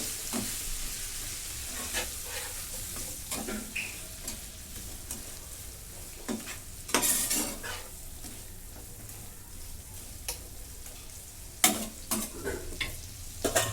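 Garlic butter chicken, with lemon juice and soy sauce added, sizzles quietly in a pan while a utensil stirs it in a series of sharp scraping strokes.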